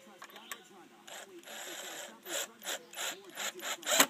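A 2.5 inch screw is driven into wood for a solar panel stand, giving a series of quiet ratcheting, grinding bursts and creaks that grow slightly louder toward the end.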